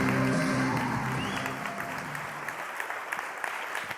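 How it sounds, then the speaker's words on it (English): An audience applauds after an award speech at an authors' ceremony, starting full and loud and then gradually thinning out toward scattered claps. "Let's give a big round of applause for Miss Ginger Bell."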